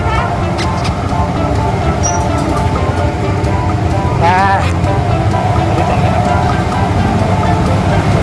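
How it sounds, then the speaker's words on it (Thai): An old-fashioned train ride pulls away at the Dreamworld amusement park with a steady, close rumble throughout, a brief rising whistle-like tone midway, and voices in the background. "ตอนนี้นะครับรถไฟใกล้จะออกแล้ว"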